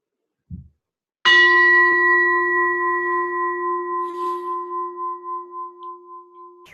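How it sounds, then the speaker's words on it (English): A single meditation bell is struck once, clear and resonant, its tone ringing on and slowly fading with a gentle pulsing waver; a soft tap comes just before. "When you hear the sound of the bell, just listen to it all the way to the end."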